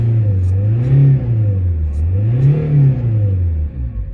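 An Opel Vectra C engine revving up and down twice in a slow rise-and-fall pattern, loud and close, with a steady idle hum between the revs.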